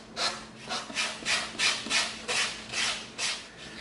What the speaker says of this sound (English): now we're gonna come in with our 80 grit sandpaper just to clean up some of the bandsaw marks